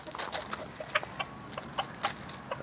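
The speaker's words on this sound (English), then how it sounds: "That's the cockerel." Soft, short clucks from a rooster come in an irregular series, fairly quiet against a light outdoor background.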